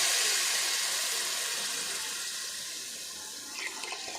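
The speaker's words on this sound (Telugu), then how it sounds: "ఇలా మగ్గిన దాంట్లోకి మనం రెడీగా పెట్టుకున్న చింతపండు పులుసుని యాడ్ చేద్దాం." Tamarind juice pours into a pan of simmering fish curry as a continuous rushing, hissing stream that slowly fades, ending with a few small splashes.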